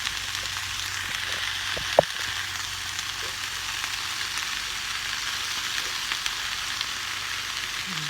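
Chopped onion sizzles steadily in a hot pan, a constant close frying hiss with a single sharp knock of a utensil being stirred through early on.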